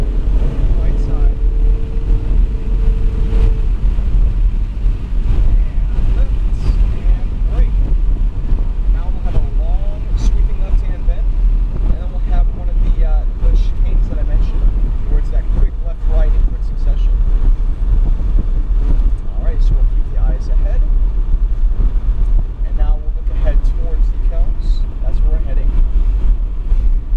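A Ferrari 488 GTB roars at full throttle around Kansas Speedway, heard from on board as a loud, constant engine drone with heavy wind rush, while people talk over it.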